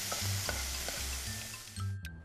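Octopus and garlic stir-fried with balsamic in a hot pan, a steady close sizzle with repeated scraping stirs and a brief clatter at the end.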